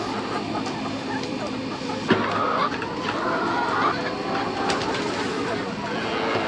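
Chickens cluck and murmur in a busy background chorus, steady and fairly close, with occasional sharper squawks and some talking mixed in.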